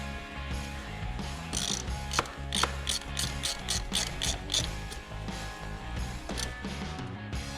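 A ratchet tightens the top power steering pump bolt on a 2003 Subaru Outback, its rapid pawl clicks coming in repeated close bursts with short pauses, crisp and near, without any talk.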